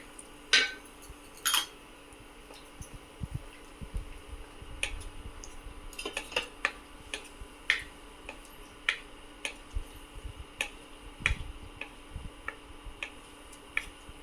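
Cashews lightly roasting in a kadhai over medium heat give sparse, faint clicks and taps as the nuts shift against the metal, scattered irregularly across a quiet background.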